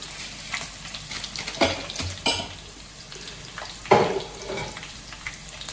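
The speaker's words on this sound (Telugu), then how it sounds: "చక్కగా వెల్లిపాయ కొంచెం వేగితే కమ్మగా ఉంటుందండి వాసన" Garlic and cumin seeds fry in hot oil in a pan, a close, continuous sizzle broken by a few louder scrapes and clatters as they are stirred, with no voices.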